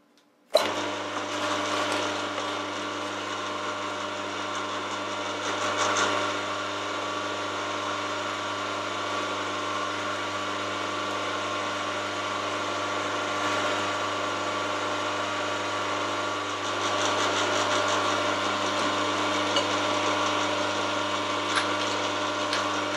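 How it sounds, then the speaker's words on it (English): A metal rotary head block being countersunk on a machine running slowly at 75 RPM: a steady, loud mechanical hum with constant tonal whine, continuous throughout with brief scraping swells, no talk. "all that remains is to put the countersink in"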